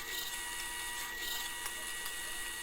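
A drill press bores a batch of wooden Adirondack chair slats against a fence and stop block, a steady close whirring grind with no voices.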